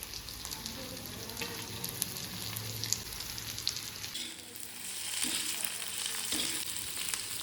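Chopped onion and garlic frying in a pan for a home-style Konkani prawn curry, a continuous soft sizzle with occasional stirring scrapes, the hiss brightening in the second half.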